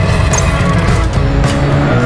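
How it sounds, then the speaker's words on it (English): A racing car engine roars steadily in a PlayStation VR driving game, loud and close throughout, with a brief tire squeal over the continuous motor drone. "Hear your engine roar with 3D audio"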